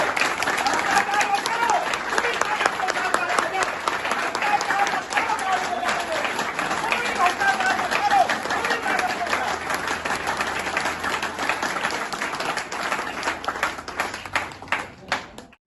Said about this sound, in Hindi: केवल 15 सेकंड हम ताली बजा सकते हैं